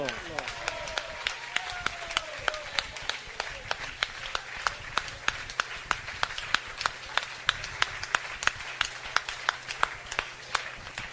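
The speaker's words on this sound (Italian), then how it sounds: "Un applauso, grazie per ricordarlo." Applause at a disco in memory of a lost friend, sharp irregular claps ringing out over a steady music bed, with a voice calling out near the start.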